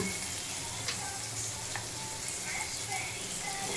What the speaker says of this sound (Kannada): ಹಾಗಲಕಾಯಿ ಸ್ವಲ್ಪ ಹೊತ್ತು ಎಣ್ಣೆಲಿ ಹಂಗೆ ಫ್ರೈ ಮಾಡ್ಕೊಳ್ಳೋಣ ಉಪ್ಪು ಹಾಕಿ